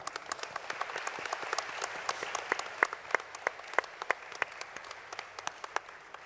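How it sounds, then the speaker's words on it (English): Audience applause at a Marvel Star Wars comic books panel at Star Wars Celebration Europe 2016: a room of clapping with sharp individual claps standing out, steady for several seconds. "Round of applause for Matt."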